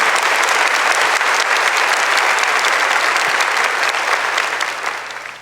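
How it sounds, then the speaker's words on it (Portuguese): A church congregation applauds after a Gospel reading during a Catholic preaching event, a dense, steady wash of many hands clapping that holds for several seconds and then begins to fade. "Vamos aplaudir com alegria, com amor a palavra de Deus."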